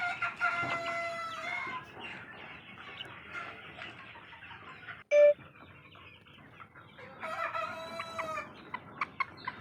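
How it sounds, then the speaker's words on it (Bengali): Sonali chickens on a poultry farm cluck steadily, with roosters crowing loudly near the start and again toward the end, one sharp close call in the middle, no talk. "মুরগিগুলো অনেক সুস্থ আছে"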